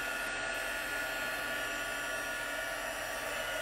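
An embossing heat tool warming up, a steady close airy whoosh like a hair dryer, constant and fairly loud throughout with no talk.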